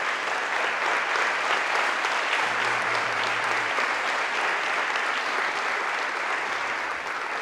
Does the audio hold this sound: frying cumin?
no